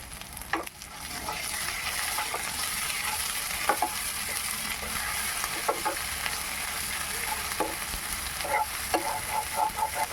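Ginger-garlic paste sizzles in a pan with browned fried onions for a rui posto dish. The frying hiss is steady, broken by repeated scraping stirs of a spatula.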